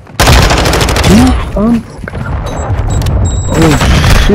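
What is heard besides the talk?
cruise missile explosion in video game Modern Warfare 2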